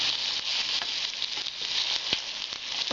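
Small, tiny potato pieces frying in a pan, a steady close hiss of sizzling oil with soft crackles and occasional sharper pops throughout.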